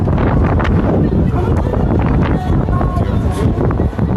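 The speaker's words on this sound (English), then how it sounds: "It sounds very windy now, like that." Steady, loud wind buffets the microphone with a constant broadband roar, and a voice talks faintly underneath.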